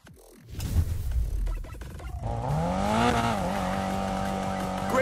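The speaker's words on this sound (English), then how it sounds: "Lighting up those tires is a piece of cake." Car tires squeal loudly through a drift in the racing game Need For Speed: Payback, the rising engine roar blending into a sustained, wavering screech that holds steady after an opening burst of revving.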